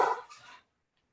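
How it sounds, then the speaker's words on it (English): A dog gives a short, muffled bark in the background indoors, heard once and then fading into quiet. "the dog is barking"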